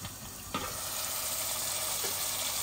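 Curry masala for rohu fish with potatoes sizzles in a pan with a soft, continuous hiss. A brief utensil knock comes early.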